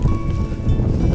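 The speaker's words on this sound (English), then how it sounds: "And the wind's picking up again." Steady wind gusting across open fields during a walk with lions, a continuous low rushing roar that swells slightly near the end, with faint rustling and no talk.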